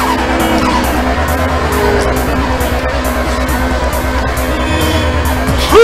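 A race car in Midnight Club II roars through Tokyo streets under nitrous boost, its engine droning loud and steady while tires skid and squeal throughout, close and with no talk.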